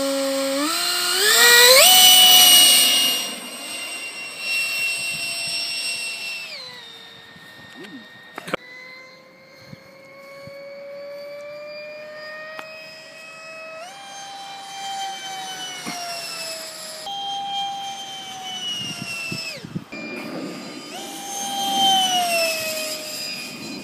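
A Mirage 2000 RC model jet makes a low pass on its maiden flight, its turbine whine loud and high at first, then sliding down in pitch and rising again as the jet swings by, with occasional voices nearby.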